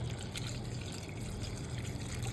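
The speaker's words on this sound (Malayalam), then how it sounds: "അത് വെന്ത് വരുന്ന ആവശ്യത്തിന് വെള്ളം ഒഴിക്കുക" Water pours steadily into a cooking pot holding salt and turmeric powder, with a low, continuous trickling gurgle, close by and unbroken for the whole stretch.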